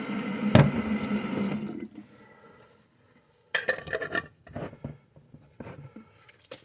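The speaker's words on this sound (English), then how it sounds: "fill her up with a little water" Water runs into a container holding action figure clothes for Rit dyeing, a steady splashing pour for about two seconds, then quieter sloshing and scattered clinks and knocks close by.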